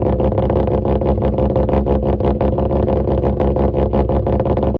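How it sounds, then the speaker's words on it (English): A Mazda RX8 with a 13B rotary engine runs at a steady, loud, buzzy drone with a rapid pulsing throb, continuous for about five seconds before cutting off abruptly. "The Mazda RX8 is powered by a 13B rotor which produces 200 horsepower of rotary goodness."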